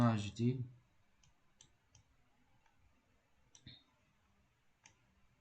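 A computer mouse clicking, a handful of faint, sparse clicks spread out after a brief burst of speech at the start.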